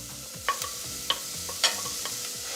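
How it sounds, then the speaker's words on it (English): Onion sautés in ghee in a pan, a soft steady sizzle punctuated by three or four crisp stirring clicks and scrapes, close and without talk. "Saute the onion for a while"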